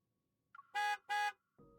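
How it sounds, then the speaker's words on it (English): Two short car horn honks sound from outside in a video game story scene, evenly spaced and fairly loud, with a soft tone before and a thump after. "A sudden honk sounds from outside."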